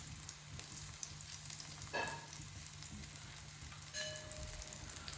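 Pieces of kaul chicken fry sizzle in oil in a village kitchen in Shringarpur, Sangameshwar, giving a steady, fairly quiet crackle with a couple of brief louder spits and no talking.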